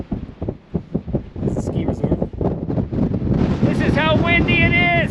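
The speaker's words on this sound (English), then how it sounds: "It is so windy!" Strong wind on the Wheeler Peak summit in New Mexico rushes and gusts across the microphone while people talk excitedly throughout.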